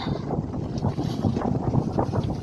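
Strong, cold autumn wind buffets the microphone in a steady, low roar, gusting slightly but never letting up.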